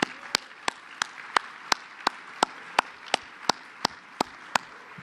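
Sharp, evenly spaced claps ring out at a national leadership conference plenary, about a dozen single hits in a steady rhythm over a quiet room.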